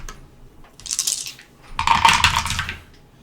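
Several dice tumble and clatter across a tabletop during a Zombicide: Invader board game, in two close rattling bursts with a pause between, no talk over them.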